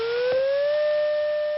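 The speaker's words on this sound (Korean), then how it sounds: "공습 경보가 발령되고 사이렌이 울리지만" A civil defense air raid siren sounds during a Korean national drill, a single steady wailing tone that rises slightly in pitch and holds, loud and unbroken with no voices.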